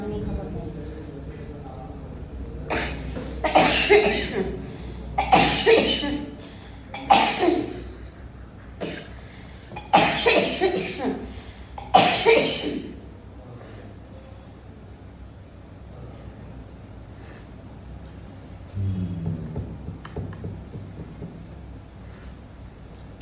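A patient with a chronic cough coughs repeatedly in a series of loud, harsh bursts close to the microphone, with people talking in between and afterward.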